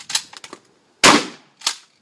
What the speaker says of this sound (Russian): Выстрелил.